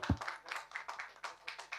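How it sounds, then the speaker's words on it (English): A conference audience claps in a quick, irregular patter of hand claps, fairly faint and brief, with no talking over it. "A round of applause, please"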